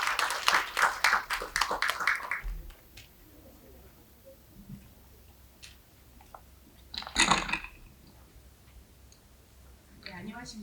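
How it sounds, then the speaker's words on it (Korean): A seated audience at a Jeju policy forum on elder care applauds briefly to welcome a speaker, a short burst of clapping that quickly dies away into a quiet room with a few scattered claps and clicks later. "큰 박수로 맞아주시기 바랍니다."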